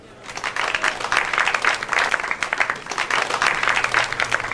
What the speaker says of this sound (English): Hey, let's give this guy a round of applause just for being here.